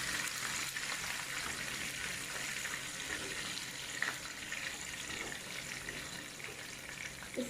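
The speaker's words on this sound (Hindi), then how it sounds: "इसकी अच्छी तरह बुनाई करनी है" Masala with chilies and salt frying in a pan, giving a steady, fairly quiet sizzle that continues without a break and has a few small pops.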